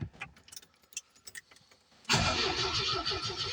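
A 1980 Chevette barn find has keys jingling in the ignition before the engine cranks loudly and steadily, turning over without catching, close by.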